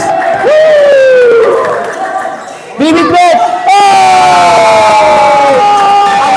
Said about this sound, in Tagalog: Napapabalakpak yung mga tiga-dilawan sa taas.